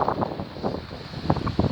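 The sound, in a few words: wind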